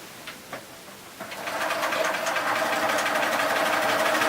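A sewing machine stitches log cabin quilt blocks: a few faint clicks, then a steady, close, continuous mechanical whir that holds until the end with no talk.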